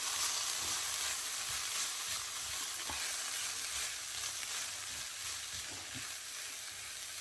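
Green beans mixed with ground spice powder in a pan make a soft, hissy frying sound with gentle, irregular stirring scrapes, quiet and close, and no one speaking.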